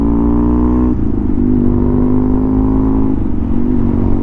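An old custom BMW R100 motorcycle rides along a road, its engine droning loud and close, with pitch falling and climbing again across a couple of apparent gear changes, and no voices.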